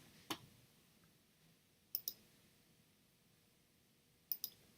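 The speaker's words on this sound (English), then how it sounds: "Just clicking on everything." Computer mouse clicks on a quiet desk, spaced single and double clicks, close and crisp against faint background hiss.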